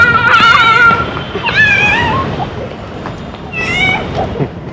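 Kids imitating a cat, giving three drawn-out high meows spaced a second or two apart over a dense, noisy indoor background.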